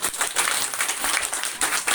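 Audience clapping at a religious talk, a dense steady patter of many hands lasting the whole stretch, fairly loud and continuous with slight swells, with no speech over it.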